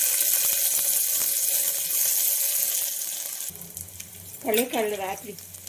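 Loud hissing sizzle of chopped onion frying in hot oil with cinnamon and cloves fills the first half, then fades to a softer crackle as a voice speaks briefly.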